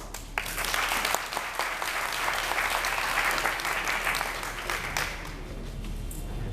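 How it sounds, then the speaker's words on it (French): A seated audience at a 2014 internship report presentation applauds a trainee. The clapping is dense and steady, like a room full of hands, and holds for about five seconds before thinning out into a few scattered claps. "il faut une fois de plus acclamer pour elle parce que c'est un grand courage"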